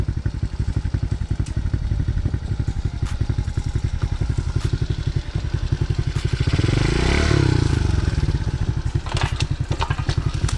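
A TaoTao DB14 dirt bike engine runs close with a rapid, even single-cylinder thump while riding, swelling into a louder rev midway before settling back, with clattering and scraping from the terrain.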